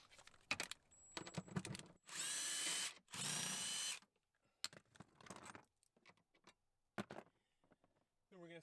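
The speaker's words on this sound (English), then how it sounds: "We're just going to zip these 2 front bolts off." Power tool, likely an impact driver, zipping out the two front seat bolts on a 2021 third-gen Toyota Tacoma TRD during a seat jacker install; two loud, steady bursts of about a second each, separated by clicks, rattles and brief speech.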